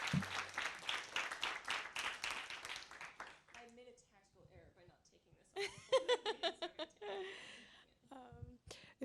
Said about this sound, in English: Can we have a round of applause for Patricia Lockwood